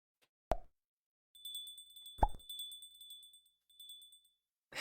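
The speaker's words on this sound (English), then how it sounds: "Look, my bell jingles now." Jingling bell sound effect on a VTuber avatar: a couple of bright clicks set off a light, tinkling ring that sustains and fades, then rings briefly again, in an otherwise quiet room.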